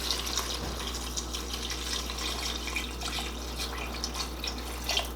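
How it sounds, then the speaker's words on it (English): Steady running water pours continuously into a pot, a broad hissing splash with faint clinks, no talking. "Add some water."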